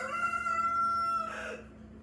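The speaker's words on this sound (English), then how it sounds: "And there's my rooster" A rooster crowing once, a clear drawn-out call lasting over a second before trailing off, moderately close and heard alone.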